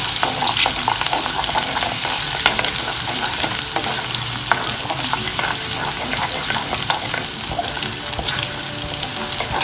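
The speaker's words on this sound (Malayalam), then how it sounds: "ഈ കറിവേപ്പില, ഇഞ്ചി വെളുത്തുള്ളി, ഇതങ്ങോട്ട് നന്നായിട്ട് വഴറ്റുക." Curry leaves, ginger and garlic sautéed in a pan, a loud continuous sizzle and crackle of hot oil, with spatula stirring scrapes mixed in throughout, close up.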